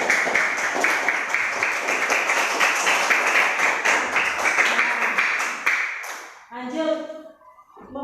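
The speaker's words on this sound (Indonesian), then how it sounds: "Tepuk tangan." Classroom of young students clapping together in quick, dense bursts for about six seconds, loud and close, before it stops and a teacher's voice continues speaking.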